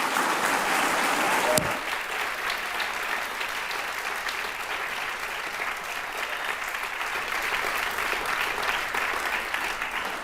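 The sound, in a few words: audience applauding the four candidates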